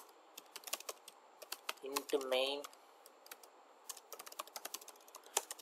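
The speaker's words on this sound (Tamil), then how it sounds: "எப்பயும் போல டைப் பண்ணுவோம்" Computer keyboard typing while entering C code, with quick irregular key clicks throughout and a short stretch of speech partway through.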